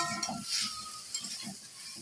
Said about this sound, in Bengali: তো আমি এগুলো দিয়ে ভালো করে ব্রোকলির সাথে কষিয়ে নেব মশলাটা।